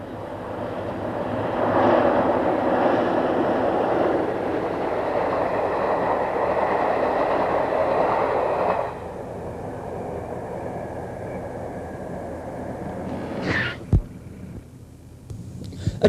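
A class 47 diesel locomotive hauling a passenger train near French Drove, a steady rumbling drone passing at moderate distance that fades after several seconds, followed by a brief sharp knock.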